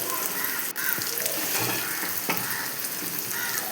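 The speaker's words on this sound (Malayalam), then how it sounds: "ഉമ്മ ഒരു ഗ്ലാസ് വെള്ളം ഒഴിച്ചു ഒന്ന് നന്നായിട്ട് ഇളക്കുന്നുണ്ട്" A glass of water is poured into a hot pan of food and stirred, producing a loud, steady rushing sizzle broken by a few sharp scrapes of the spoon.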